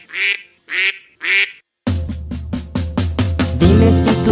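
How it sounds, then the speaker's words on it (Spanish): Three loud, isolated duck quacks ring out clearly, followed by a rhythmic run of quacks over bright children's song music. "Dime si tú sabes cómo hace el pato, vamos a escucharlo tú y yo."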